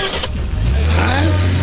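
A car engine revs up and pulls away, loud and close, its rising growl continuing steadily, with a crowd shouting and talking loudly over the start.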